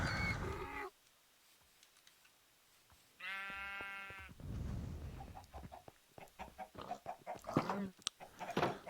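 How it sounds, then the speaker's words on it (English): Minecraft chickens cluck and squawk in short bursts, joined by a drawn-out bleating call and assorted game sound effects, with no talking. "Come pay a visit to the chickens."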